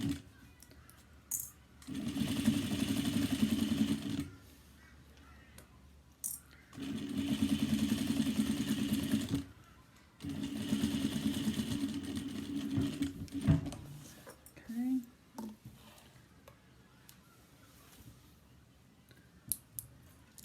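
A sewing machine stitches a bag panel in three bursts of steady whirring, a few seconds each, with quiet pauses, clicks and handling noises between runs.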